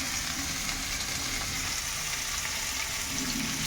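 Potatoes fry in a pan of hot oil, giving a loud, steady, close sizzle that carries on without pause and with no one talking.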